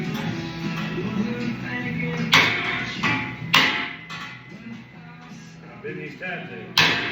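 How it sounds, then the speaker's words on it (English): Hammer and pry bar knock metal tabs into a 5-gallon steel smudge pot in a fabrication shop, giving three or four sharp metallic strikes spaced a few seconds apart over steady background noise. "Now I just literally take a hammer and a pry bar."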